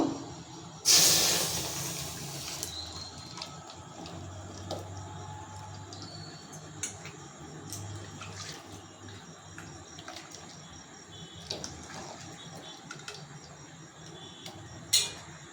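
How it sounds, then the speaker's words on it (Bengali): Water used to rinse a mixer is poured into a hot kadai and bursts into a loud, brief hiss. The hiss fades into quieter crackling and scattered ticks and clicks. "এটা আমার মিক্সি ধোয়া জল। এবার আমি কড়াতে ঢেলে দেব।"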